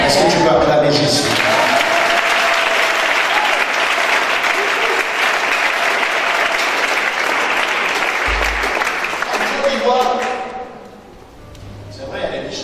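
A church congregation applauding to acclaim Jesus, with dense, sustained clapping from a large crowd that carries on steadily for about ten seconds before dying away, then a voice briefly speaks.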